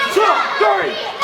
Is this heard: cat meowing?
no